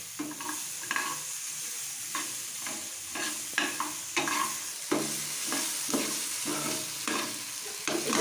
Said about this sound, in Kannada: ಸ್ವಲ್ಪ ಒಂದು 2 ನಿಮಿಷ ಆಲೂಗಡ್ಡೆ ಫ್ರೈ ಮಾಡ್ಕೊಳ್ಳಿ.